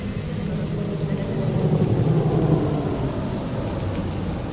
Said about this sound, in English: A rainy night in Night City.